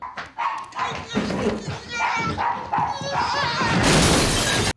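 A dog barks in a scene from The Sopranos, sharp repeated yips and barks mixed with people talking, followed by a burst of loud crashing noise.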